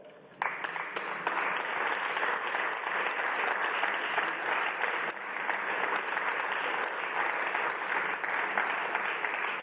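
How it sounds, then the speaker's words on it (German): Members of a German parliament applaud during a topical debate session, a steady, even wash of clapping filling the whole stretch from a sharp start. "Applaus"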